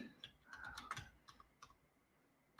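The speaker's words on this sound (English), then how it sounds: "glad my keyboard's working properly" Quick clicking keystrokes on a computer keyboard, irregular bursts of taps with brief pauses, close and fairly quiet.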